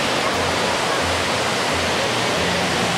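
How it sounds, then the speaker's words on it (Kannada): Hebbe waterfall in Karnataka pours down forcefully in a loud, steady roar of water close by, with no voices heard. "ಅಲ್ಲಿ ಬೀಳ್ತಿರೋ ಫಾಲ್ಸ್ ನನಗೆ ಇಲ್ಲಿ ಮುಖದ ಮೇಲೆ ಆ ನೀರು ಬೀಳ್ತಿದೆ"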